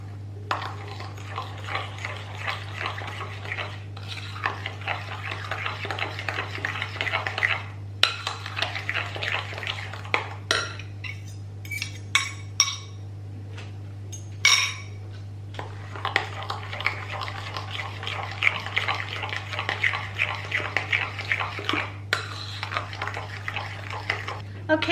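A spoon stirs a milk and sugar batter in a bowl, with scraping and clinking strokes in bursts, a pause midway with a few clanks, over a constant low hum.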